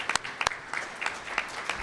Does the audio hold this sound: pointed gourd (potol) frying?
no